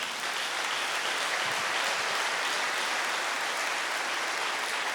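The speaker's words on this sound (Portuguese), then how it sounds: "Pode aplaudir esta palavra." A church congregation applauds during a worship service, a dense wash of many hands clapping continuously at an even, moderate level, heard from a distance across a large space with no voices on top.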